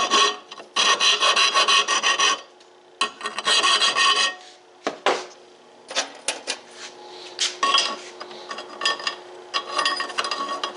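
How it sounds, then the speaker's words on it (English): Metal jig pieces for a Woodmizer LT15 bevel siding setup get their rough edges filed, giving loud, close rasping strokes in rhythmic bursts separated by short pauses. "I'll just take and file the rough edges on that a little bit"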